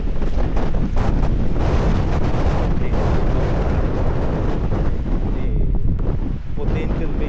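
Strong wind gusting hard against the microphone in Denmark on a stormy day, a loud, constant roar with surf-like rushes that barely eases over several seconds.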